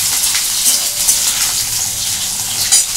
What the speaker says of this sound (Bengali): এই আলুটা এখন আমি একটু ভালো করে ভাজবো